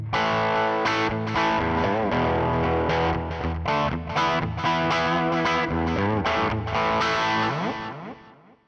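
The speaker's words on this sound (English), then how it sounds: "Now, I'm starting off on kind of just like a light distortion sound." An electric guitar played through a light distortion pedal rings out in sustained, harmonically rich chords and notes at a steady loud level, with no talking, fading out at the end.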